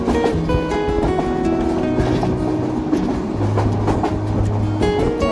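The Kishoreganj Express passenger train runs along the rails with a steady rumble and rhythmic wheel clatter heard from on board, accompanied by sustained tonal hums and faint metallic squeals.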